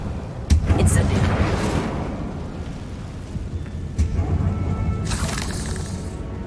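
Incendio fire spell cast in Hogwarts Legacy while fighting spiders: sharp cracking bursts and a roaring whoosh of flame over rumbling game ambience, with a few louder hits spaced through it.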